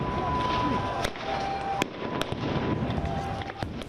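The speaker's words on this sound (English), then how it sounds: "Israeli forces firing rubber-coated steel bullets, tear gas and sound bombs at Palestinian worshippers" Stun grenades and rubber-coated steel bullets fired by Israeli forces at Palestinian worshippers inside a mosque compound, heard as several sharp loud bangs at irregular intervals over a constant roar of crowd noise and a high alarm-like tone.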